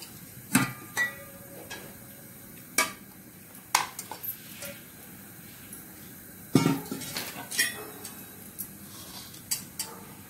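A few sharp knocks and clinks of a knife cutting a cooked cabbage fritter roll into pieces on a board or plate, spaced irregularly with quiet gaps between them, close by.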